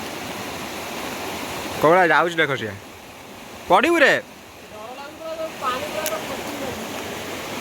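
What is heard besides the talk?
waterfall in a forest among hills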